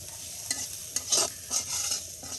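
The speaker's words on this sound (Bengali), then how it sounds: "পেঁয়াজটা নাড়াচাড়া করতে থাকতে হবে, দেখতে হবে যেন পেঁয়াজটা পুড়ে না যায়" Onions frying in a pan, stirred so they don't burn, a steady hissing sizzle broken by a few scraping strokes of the spoon, close up with no one speaking.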